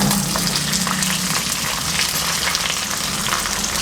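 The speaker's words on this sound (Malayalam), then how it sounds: "ഇതിലേക്ക് 2 കപ്പ് ചെറിയുള്ളി ചേർത്ത് കൊടുക്കുന്നുണ്ട്." Two cups of shallots tipped into grated coconut already browning in a pan for Kerala-style beef fry, giving a steady, loud, close sizzle of frying with no talk.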